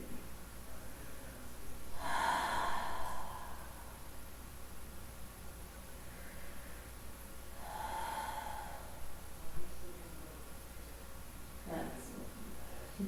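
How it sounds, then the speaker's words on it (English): Slow, deep breathing during a gentle hip-focused yoga session, with two long audible breaths spaced several seconds apart, faint and close over a low background hiss, and no talking. "Let's take 3 to 5 full rounds of breath here."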